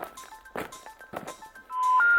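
Touch-tone telephone dialing plays as a few short tones and clicks, ending in a sustained louder tone.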